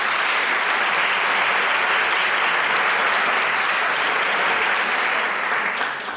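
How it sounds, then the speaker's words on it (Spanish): A conference audience gives a speaker a strong, sustained round of applause, dense steady clapping filling the room for about six seconds before it starts to thin at the end, with no voices over it. "Un fuerte aplauso,"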